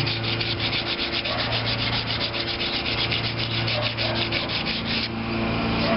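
Wood is hand-sanded with sandpaper on a Maytag model 72 stand, producing steady, rhythmic back-and-forth rasping strokes up close for about five seconds before easing off, with no talking.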